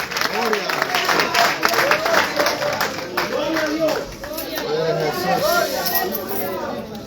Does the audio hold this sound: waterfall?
no